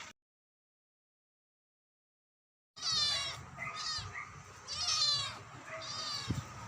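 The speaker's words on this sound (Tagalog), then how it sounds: "naamoy na ng alaga naming kuting. Humihingi na kagad siya." A pet kitten meows repeatedly, begging for fish-flavored food while laing is cooked. After a few seconds of silence, several close, insistent meows follow in quick succession.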